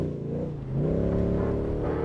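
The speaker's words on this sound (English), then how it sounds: "His beefy Nissan Patrol is powered by a 6-litre V8" A Nissan Patrol off-road race truck with a 6-litre V8 revs hard and steady at an off-road championship race, its engine note climbing as it drives close by, with no voices.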